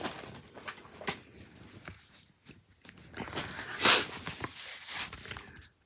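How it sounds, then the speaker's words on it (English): Soft shuffling and breathing, then a quick, breathy blow of the nose close by, followed by faint rustling. "I just need to blow my nose"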